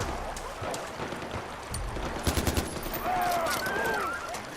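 Gunfire aimed at a beast in the Far Cry video game, a few loud clustered shots in the middle and bursts over a constant windy, rumbling game background, with game voices along with it.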